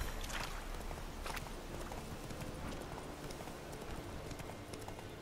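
Hooves of Roach, the horse in The Witcher 3: Wild Hunt, clip-clopping in an irregular walking rhythm, moderately close but soft, with a few sharper hoof strikes over a steady ambient wash and no talking.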